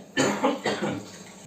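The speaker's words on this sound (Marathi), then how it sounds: "खोकला सारखा येतो दाजींना" An elderly man with a persistent cough lets out a short, close burst of three or four rough coughs in quick succession.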